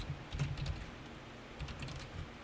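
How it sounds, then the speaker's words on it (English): Soft, quick keystrokes on a computer keyboard as a password is entered, a faint close burst of taps with a short pause partway through. "I heard the way that he typed and now I know his password"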